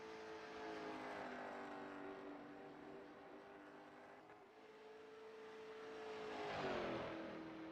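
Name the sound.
race cars driving on the track at Rockingham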